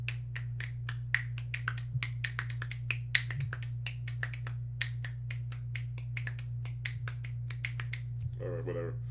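One hand snaps its fingers over and over in a quick, uneven rhythm, sharp and close over a steady background hum, with a brief voice at the end.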